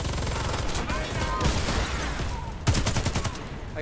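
Rapid automatic gunfire in the Warface shooter game, dense bursts of shots aimed at a mine, loud and close, with a brief pause before another heavy burst and a player's voice talking over it.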